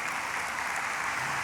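Congregation applause fills a church service during a revival sermon, a steady, dense wash of clapping hands that holds at full strength from start to finish.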